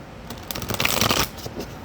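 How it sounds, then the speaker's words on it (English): A deck of playing cards is shuffled in a quick run of riffling flutters, close and fairly loud, with no talking. "I'm just shuffling until I'm satisfied with the cards."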